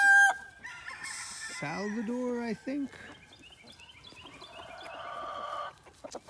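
A backyard flock of chickens including Lakeshore Egger, Blue Australorp, black Minorca and blue Andalusian birds, with a young rooster, clucks and crows nearby in a clear, loud series, while a person speaks briefly.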